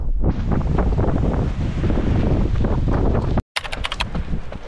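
Strong wind gusts buffet the microphone during a marathon in a loud, continuous roar, cutting out abruptly and returning with lighter rustling and a few sharp taps.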